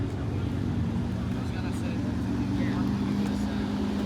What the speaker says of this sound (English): John's taking off in the R8.